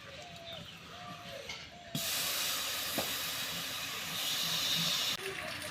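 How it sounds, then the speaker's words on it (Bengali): Jaggery melts in a hot wok with a loud, broad steady hiss that starts abruptly, holds for about three seconds and then cuts off, after a stretch of quieter scraping. "কড়াইতে দিয়ে দেবো গুড়"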